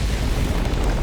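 An HE barrage detonates in Helldivers 2, a loud, dense, rumbling explosion roar that fills the moment with continuous low boom.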